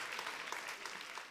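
Fairly quiet but steady applause fills a hall at a school short-film contest awards ceremony, a continuous patter of many hands clapping.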